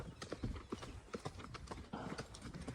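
A ridden mare's hooves clip-clop in a quick, steady rhythm on open ground, fairly close, with a brief whinny-like sound and no clear talk.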